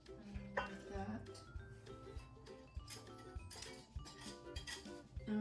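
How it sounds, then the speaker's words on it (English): Yeast mixture being stirred into flour in a bowl for homemade bread, soft irregular scraping and clinking of a utensil against the bowl, quiet and close, with faint talk underneath. "And I'm just going to mix it up."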